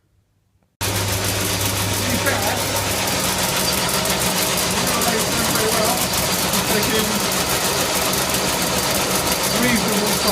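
A lathe cutting metal for a BMW R80 cafe racer build runs as a steady, loud, continuous mechanical drone with an even grinding texture, starting abruptly after a brief quiet moment.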